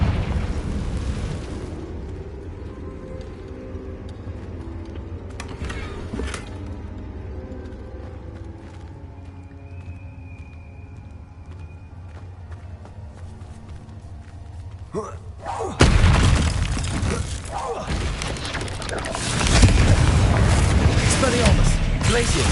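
A Confringo explosive spell blast in a wizard video game starts after a long, quiet stretch as a sudden loud burst, followed by a second booming surge and a roaring rumble.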